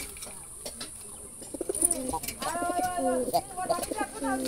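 A big black Jalali wild pigeon coos in repeated low, wavering calls, fairly close, with a voice talking around it.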